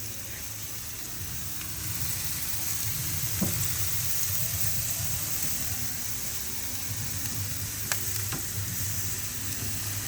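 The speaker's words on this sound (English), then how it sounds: "Y'all hear this sizzle?" Food sizzles and fries steadily in hot oil at a Memorial Day weekend cookout, a constant dense crackle with a few brief clinks near the middle and end.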